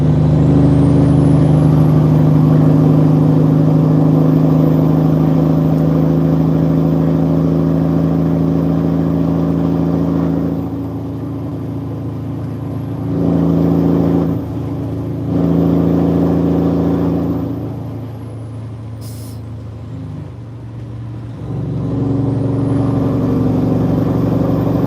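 Engine of a Kenworth W900 truck pulling an excavator on a highway as the driver downshifts to 17th gear, a loud steady drone that dips and surges with the gear change before settling.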